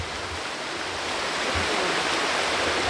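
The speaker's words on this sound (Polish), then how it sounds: "Ten szum rzeki uspokaja." A river stream rushes steadily at a wild camping spot in Wales, a loud, continuous broadband wash of flowing water that swells slightly toward the end, with no voices over it.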